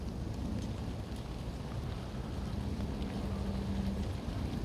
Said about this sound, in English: Another rainy day